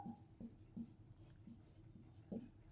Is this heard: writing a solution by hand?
yes